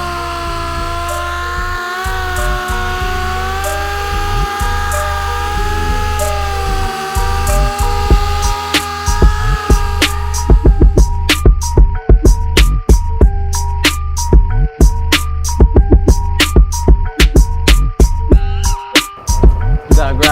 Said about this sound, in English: We're gonna go over this whole hood with 3000 to level everything back out